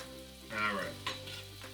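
Mushrooms sauté in a hot pan, a soft steady sizzle with a louder burst of frying and stirring scrapes partway through, close up with no talking.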